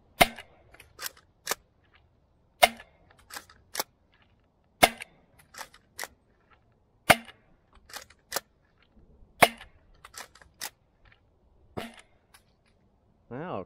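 A DZP Mk 2 toy dart blaster fires cut-down darts in a sharp, crisp series of loud snapping shots, often in quick pairs or triplets separated by short quiet gaps, with faint handling noise between.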